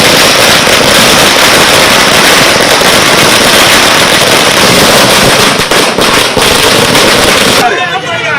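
Firecrackers crackle in a dense, continuous barrage outside a party office where AIADMK supporters celebrate, loud and close for about eight seconds before cutting off abruptly.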